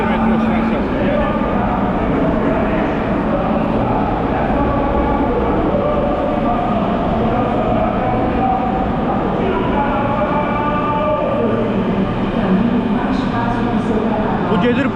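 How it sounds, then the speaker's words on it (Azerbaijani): Subway train at a tidy metro station in Rio de Janeiro, a steady, loud rumble of the train and station noise filling the whole stretch, with a voice talking over it. "Çox səliqəli bir metro stansiyası var Rio'nun."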